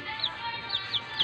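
Chickens, including broilers, clucking and chirping at a moderate distance, with several short calls scattered over steady outdoor background noise.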